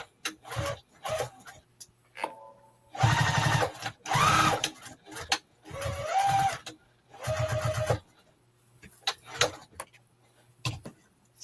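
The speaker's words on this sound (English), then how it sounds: "I sew it way down at the bottom because I don't want it going through my binding either." A sewing machine stitching a fabric project bag runs in several short, close bursts of rapid mechanical whirring, separated by brief pauses and small handling clicks.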